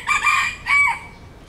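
A Lemon Sweater x White Kelso fighting rooster lets out a loud, close crow in two drawn-out bursts.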